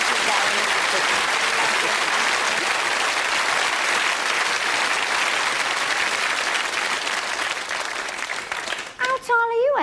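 Studio audience at a British talk show breaks into loud, sustained applause that continues evenly for several seconds, then fades as a voice begins speaking at the very end.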